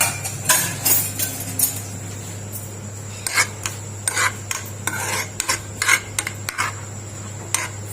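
Onions browning in ghee for mutton nihari are stirred in a pan, with repeated close clinks and scrapes of a spoon against the metal in irregular bursts and no speech.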